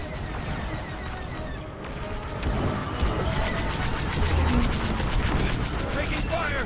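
Gunfire in the Marvel Rivals video game, repeated sharp shots and bursts over a dense, noisy battle background, growing louder and more rapid partway through.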